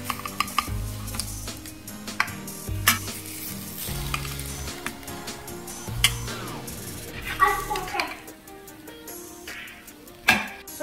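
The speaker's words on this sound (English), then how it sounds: "you can hear the sizzling noise from the oil" Olive oil sizzles steadily in a pan with potatoes while a utensil scrapes and clinks against it at irregular moments, close and fairly loud.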